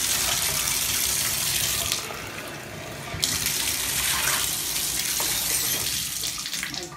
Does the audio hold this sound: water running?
yes